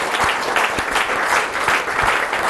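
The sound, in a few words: applause for Silvana Santi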